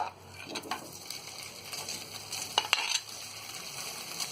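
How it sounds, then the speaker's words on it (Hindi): Paneer cubes fry in leftover oil in a pan for paneer do pyaza, giving a soft, steady sizzle with a few sharp clinks of a spoon against the pan near the middle. "अब हम इसे निकाल लेंगे और इसी बचे हुए तेल में हम ये पनीर को भी फ्राई कर लेंगे।"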